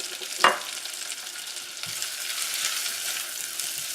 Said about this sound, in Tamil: இது எல்லாத்தையும் சேர்த்து நல்லா வதக்கிக்கோங்க